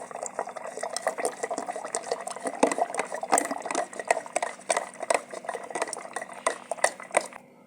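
Homemade mango shake being churned by hand in a pot, giving a steady run of close, busy sloshing, clinking and scraping strokes with liquid splashes throughout, no voices.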